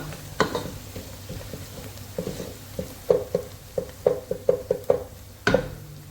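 Onions and garlic sizzle in a pan for a chicken dish, a steady soft fry broken by a run of sharp spoon clacks and scrapes against the pan, with no one speaking.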